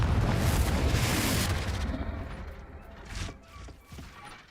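A Confringo fire spell goes off in Hogwarts Legacy as one loud, roaring blast that holds for over a second. It then decays into rumbling debris, with a smaller burst trailing near the end.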